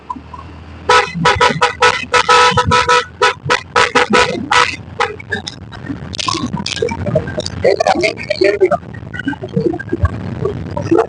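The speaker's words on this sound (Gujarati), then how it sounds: "વાહ રે વાહ, શું હોરન છે યાર ગાડીનું" A car horn honks loudly over and over in a rapid, patterned sequence, with road and engine noise and some voices in the background.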